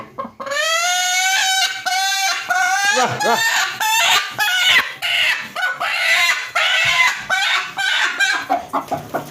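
Chickens and ducks in a poultry shed cluck and squawk loudly and close by in a rapid, overlapping series of calls that continue without pause.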